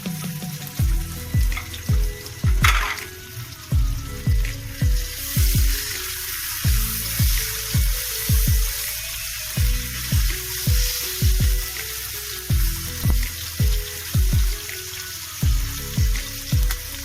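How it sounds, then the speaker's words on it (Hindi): Chopped onion and tomato sizzle on a hot tawa for a dhaba-style chana dal, with rhythmic clanking of a utensil stirring against the pan over the steady frying hiss. "प्याज और टमाटर थोड़ा सोते हुए"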